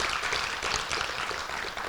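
A crowd at an awards event applauds the homecoming chairs, the brief clapping steady but fairly quiet and heard from some distance.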